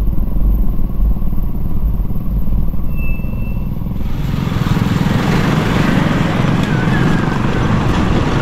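Motorcycle engine running on a flooded street after rain, a loud steady buzzing drone that swells into rougher, splashier noise about halfway through, with no talk.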